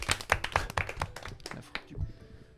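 A small studio group claps for the production team, a handful of sharp, uneven hand claps close by that thin out and stop after about two seconds.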